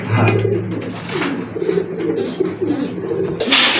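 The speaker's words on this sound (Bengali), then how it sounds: "খুবই সুন্দর একটা মাদি কবুতর" A female pigeon coos close up in a series of soft, low, rolling calls, repeating every second or so.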